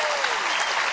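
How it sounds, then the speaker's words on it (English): A crowd gives a roaring round of applause, dense and loud clapping filling the whole brief moment without pause. "Let's give him a roaring round of applause"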